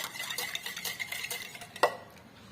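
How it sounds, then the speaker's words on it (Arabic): A spoon stirs sugar in a bowl to dissolve it for brioche dough, making quick, rhythmic metallic scraping and clinking up close, with one sharper knock near the end before it fades. "نحاولوا نذوبوا شويه السكر"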